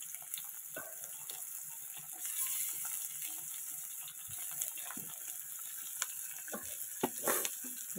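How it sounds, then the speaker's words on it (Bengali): Pumpkin pieces frying in a wok make a faint, steady sizzle with scattered soft clicks and scrapes, low in level with no talking. "কুমড়োগুলো কেটে সেইগুলো দিয়ে দেবো, দিয়ে হালকা ভালো করে বেশ ভাজা ভাজা করব"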